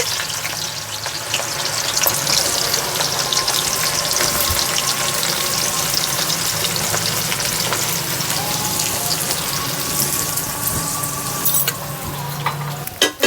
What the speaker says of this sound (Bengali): ছাকা তেলে আমি বেরেস্তাটা ভেজে নেব, পেঁয়াজের বেরেস্তা